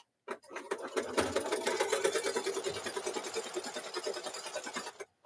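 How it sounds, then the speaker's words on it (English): Embroidery machine running a placement stitch: a rapid, steady mechanical needle chatter that starts abruptly, holds an even rhythm for several seconds close up, then stops. "So now we'll run that placement stitch."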